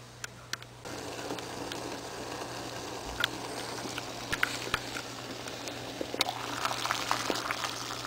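Water bubbles at a rolling boil on a camp stove over the low, constant hiss of the burner, with scattered small pops.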